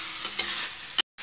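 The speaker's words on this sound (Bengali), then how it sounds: "এই যে দেখো খুব সুন্দর মশলাটা ভাজা গেছে" Stone-ground spice paste fries in oil for a Bengali egg chop while a utensil stirs it, giving a steady close sizzle with scraping strokes, a short louder burst, then a brief break before the hiss resumes.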